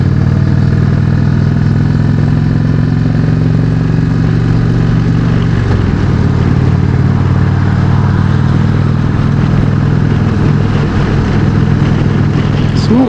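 An Indian Chieftain motorcycle on the move gives a loud, steady, deep engine and exhaust drone from its pipes, with a brief shift in pitch midway before the rumble carries on up close.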